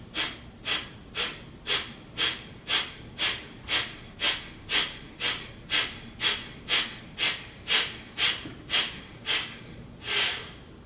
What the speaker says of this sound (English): So you just exhale.